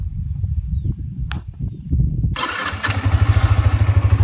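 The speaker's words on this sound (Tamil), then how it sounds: "வண்டி ஸ்டார்ட் பண்ணியாச்சு." A Yamaha R15 motorcycle engine cranks and catches at close range, then settles into a loud, steady idle with a regular pulsing beat, after some quieter handling noises.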